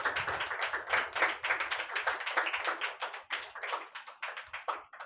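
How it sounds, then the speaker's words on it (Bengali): An audience claps at an award felicitation ceremony, a steady stream of rapid, crisp hand claps at moderate loudness with no one speaking over it. "একবার জোরে হাততালি।"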